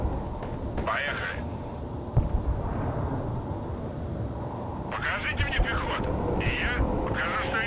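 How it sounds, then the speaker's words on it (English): An aircraft roars over a battlefield in the Broken Arrow strategy game, a loud low rumble spread through the whole stretch with radio chatter bursts and a voice talking over it. "Plane."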